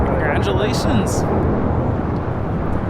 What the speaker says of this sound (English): This is Qatar Airways 740 taking off to Doha.